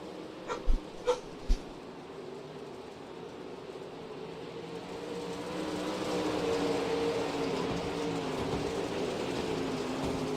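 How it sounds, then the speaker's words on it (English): Three sharp barks from a dog left out front come early, fairly close and spaced about half a second apart, followed by a steady low rumble of background noise. "my mom's dog is out front barking"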